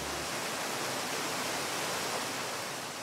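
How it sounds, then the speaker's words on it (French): The towering Trou de Fer waterfalls on Réunion send down a continuous broadband roar of crashing water, steady and loud without a break. "doit son nom au fracas métallique de ces immenses chutes d'eau contre les parois"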